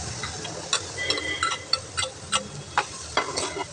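Chicken with tomatoes, onion and garlic sizzling in a pan while being stirred, with a steady frying hiss broken by repeated scraping strokes of the spoon, close and clear, no voices.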